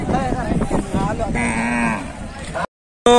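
At a bullock cart race, a bull lets out a loud, drawn-out moo close by amid a noisy outdoor crowd, followed by a brief silence and a sudden burst of sound.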